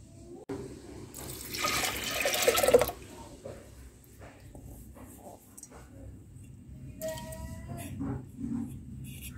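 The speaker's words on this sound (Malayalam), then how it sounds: "വെള്ളം ഒഴിച്ചു കൊടുക്കാം കേട്ടോ" Water is poured from a tap into a pressure cooker holding washed toor dal, a rushing stream lasting a couple of seconds, followed by quieter kitchen clatter, drips and a brief second splash.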